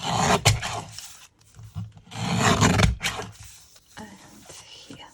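Close, rasping strokes of filing or sanding round off the top of a paper craft tag, coming in a few uneven bursts with brief quiet gaps between them.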